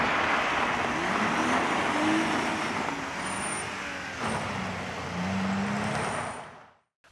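A rear-wheel-drive car driven at speed on a loose surface gives a steady, loud engine drone mixed with broad rumbling tire and surface noise, the pitch shifting with the throttle before cutting off abruptly at the end.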